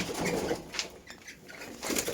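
Pigeons or doves in an aviary coo softly with bursts of wing flapping, a steady low murmur of calls broken by brief fluttering at moderate distance.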